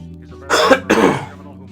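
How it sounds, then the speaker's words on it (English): Two harsh coughs come close together from a person near the microphone, loud and sudden against a quiet room hum. "I'm so sorry for all the coughing, like really."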